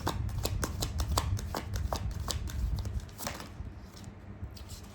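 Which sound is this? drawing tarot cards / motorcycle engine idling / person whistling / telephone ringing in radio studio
drawing tarot cards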